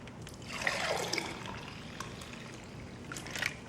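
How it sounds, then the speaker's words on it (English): Potato cooking water drains from a pot into a measuring cup for vegan mashed potatoes, a steady trickling pour running through the whole stretch with no talking. "I'm going to drain off some of the water."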